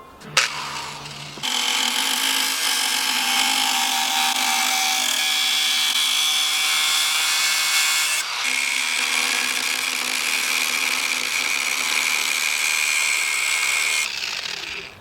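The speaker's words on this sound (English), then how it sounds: "now we break out the power tools" A loud power tool grinds and cuts steadily for about twelve seconds on a Nissan 240SX fender, a harsh continuous whine with a brief dip midway, starting and stopping abruptly.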